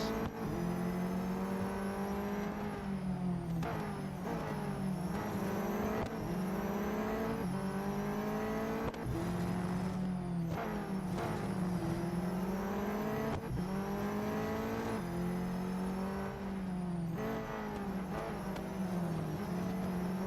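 Race car engine in Real Racing 3, revving steadily with repeated gear-shift dips and pitch rises, loud and continuous throughout with no voices.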